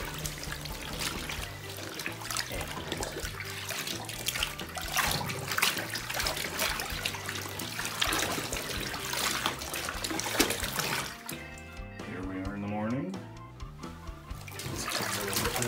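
Water sloshing and swishing in a tub as a dirty brown pinstripe suit jacket soaks, with broad churning splashes and trickles throughout, then a gurgling, bubbly stretch near the end.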